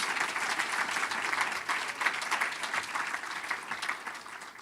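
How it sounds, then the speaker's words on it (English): Sustained applause from a large audience at an awards ceremony, a steady wash of clapping hands throughout. "How about another round of applause for our 5 Educator of the Year finalists?"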